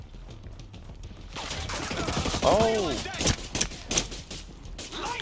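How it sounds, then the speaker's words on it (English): Rapid bursts of gunfire in Ghost Recon Breakpoint crackle loudly through the clip, with a brief spoken exclamation partway through. "All I hear is gunfire."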